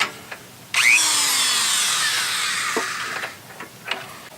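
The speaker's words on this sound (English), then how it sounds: "I think what will be a more fun way to do it is to use a Dremel" A Dremel rotary tool whines at high speed as it strips paint off the raised letters of a motorcycle gas cap, starting abruptly and running steadily for a few seconds before grinding off, with a couple of light taps afterward.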